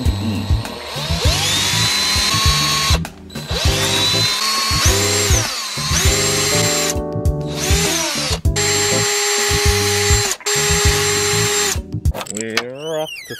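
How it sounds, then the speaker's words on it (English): A small power drill with a tiny bit bores a hole for a miniature screw, whining in short bursts of high, steady spin that rise and fall as the trigger is pressed and let go, close and loud. "We want to drill a hole about the size of the core of the screw, not the threaded part."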